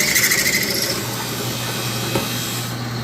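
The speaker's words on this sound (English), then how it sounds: "bit it right through it. And that's 3/8 bit." A power drill with a 3/8 inch bit boring through wood, a steady close grinding whir with a faint motor hum and a scraping cutting texture throughout.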